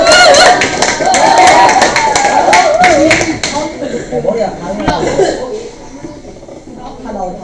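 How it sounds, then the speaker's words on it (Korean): Children in an elementary school classroom clapping in a quick burst of sharp, close hand claps that stop abruptly after a few seconds, with a voice talking over them and continuing afterward. "한 사람 한 사람씩 소개할 때마다 박수를 쳐주세요."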